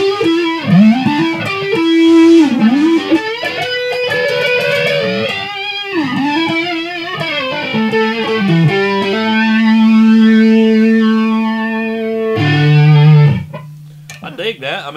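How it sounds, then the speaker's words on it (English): Overdriven electric guitar on the neck pickup through a CNZ Audio SFL 20 flanger pedal with drive in front, notes and chords swirling and whooshing, ending on a sustained chord before a short new strum. "Now you're going to hear the actual flanger sound be more pronounced with the drive in front"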